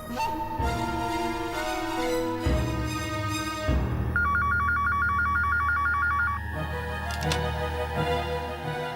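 A telephone ringtone trills in a rapid, warbling pattern for a couple of seconds during a call home, mixed under a steady bed of dramatic television background music.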